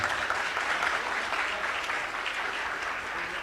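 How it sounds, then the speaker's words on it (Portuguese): Steady applause from an audience fills the whole stretch, dense and even, without any voices standing out. "Por favor, aplauda essa minha assessora internacional."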